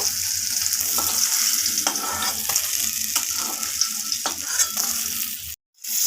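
Pieces of rohu fish fry in hot oil with a loud, constant sizzle and a few stirring strokes, until the sound cuts out abruptly for a moment near the end.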